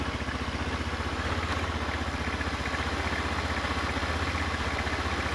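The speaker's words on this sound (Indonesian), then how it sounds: "Mantap, motor tidak mati, berarti cara ini berhasil." A Honda Vario carbureted scooter engine idles steadily without stalling, a close, loud, even mechanical putter with a light clatter running the whole time, no voices.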